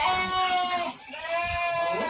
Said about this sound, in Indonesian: Nah ini ada kambing bur juga ini.